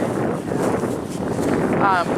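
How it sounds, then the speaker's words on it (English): Strong wind buffets the microphone in a continuous low rumble, with faint speech buried beneath it. "It is a little windy breezy today."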